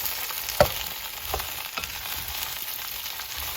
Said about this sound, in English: you're basically just trying to cook down the potatoes and the cabbage, which I've now added to the pot